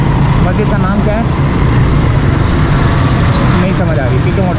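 Riding a motorcycle through a busy town street brings a loud, steady engine drone mixed with traffic noise and scattered voices in the background.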